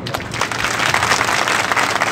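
An indoor audience at a political gathering in Jhansi bursts into sustained applause, a dense wash of many hands clapping with no pauses.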